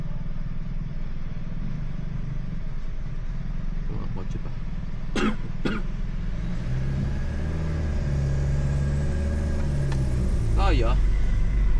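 A Jetour T2 SUV climbs an uphill road near Baguio in rock mode with manual shifting, its engine a low steady drone that grows heavier and louder toward the end, with people talking and coughing inside the cabin.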